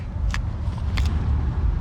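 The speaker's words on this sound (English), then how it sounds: "This thing sounds like it has an exhaust leak." A racecar with an exhaust leak idles in a low, steady rumbling putter close by, with a couple of faint higher ticks over the engine.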